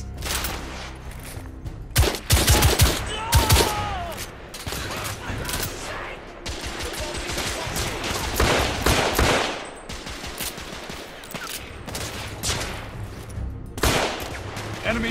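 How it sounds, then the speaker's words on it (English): Police gunfire in The Order: 1886, with repeated bursts of shots and rapid volleys near and far, loud and dense, pausing briefly before resuming over background rumble. "They're shooting at me!"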